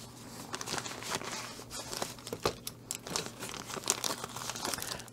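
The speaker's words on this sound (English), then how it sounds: "Comes in this big Ziploc baggie." A big plastic Ziploc bag holding a diamond painting toolkit crinkles and crackles close up in irregular bursts, quiet and dry, with no talking.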